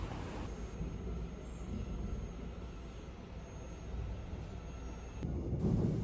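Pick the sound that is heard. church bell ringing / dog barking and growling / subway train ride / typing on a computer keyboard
subway train ride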